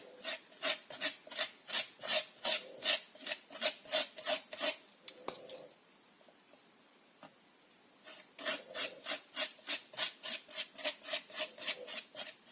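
Rhythmic back-and-forth scraping of structure paste, a wall filler, spread through a stencil on a placemat, with a steady train of rasping strokes, a pause of about three seconds, then another even run of strokes, close and alone.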